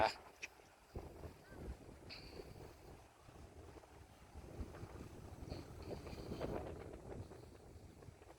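Strong, cold wind blows across open Korean countryside on a sunny day, buffeting the microphone in uneven, rumbling gusts that swell louder toward the end.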